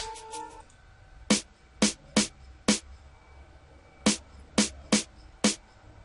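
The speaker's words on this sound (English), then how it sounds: "also there's a snare that kind of sounds a bit like this." A crisp snare hit from a hip-hop beat remake strikes eight times in two loose groups of four, each hit loud, sharp and brief, after a short melodic intro.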